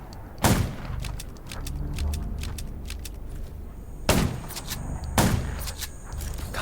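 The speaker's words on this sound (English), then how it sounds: "Gunshots will attract." Sharp, loud gunshots from the survival game Undawn ring out at zombies, several single blasts plus a few rapid clicks and pops over a low ambient rumble.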